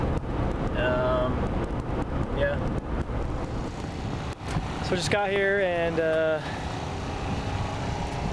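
Wind buffets the microphone in a constant low rumble while someone talks nearby at a motocross track in Tooele, Utah, with a dirt bike engine whining briefly in the background.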